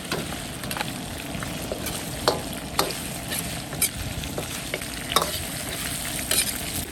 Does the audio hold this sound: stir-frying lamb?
yes